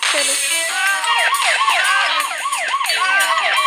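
A police siren wails close by, rapid rising-and-falling yelps repeating quickly over a vehicle's hum.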